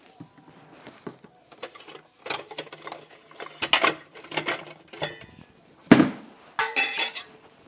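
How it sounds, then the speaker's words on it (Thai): A metal basin is brought out and handled in a home kitchen, ready for serving boiled instant noodles: a run of close clanks, taps and scrapes, some louder knocks, with no talking. "เดี๋ยวดิฉันขออนุญาตเอากระมังมาใส่ก่อนเนาะ"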